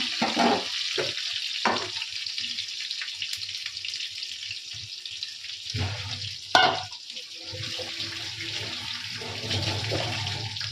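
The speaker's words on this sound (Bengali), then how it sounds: "আর তেলের মধ্যে আমি এখন দুটো টমেটো দেবো" Two tomatoes dropped into hot oil in a home kitchen pan set off a steady, loud sizzle that runs throughout, broken by a brief clatter midway, with faint talking now and then.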